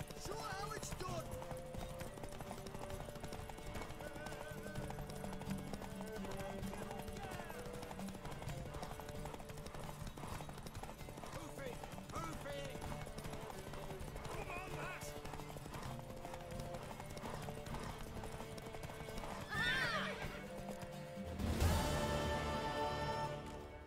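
Horse hooves clip-clopping steadily in The Witcher 3: Wild Hunt, a continuous rhythmic trot under game music and voices talking, ending in a louder burst that may be a neigh.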